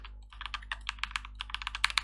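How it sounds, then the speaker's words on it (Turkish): Rapid, light clicking of computer keyboard keys while playing Rise Online, a steady run of close taps over a low electrical hum. "Size bu klavye sesi umarım fazla gelmiyordur diyeceğim ama büyük ihtimalle geliyor."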